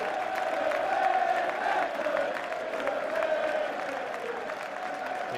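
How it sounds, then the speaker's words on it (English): A football crowd at a Chester City versus Leeds United Carling Cup first-round match applauds steadily as a hat-trick scorer is substituted, a broad sustained wash of clapping with scattered shouts and cheers throughout. "The applause reciprocated."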